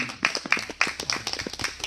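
Scattered hand claps from a small gathering at a local talk on inter-Korean and US affairs in Soseong-ri, several irregular, fairly close claps spread over a couple of seconds with faint background murmur.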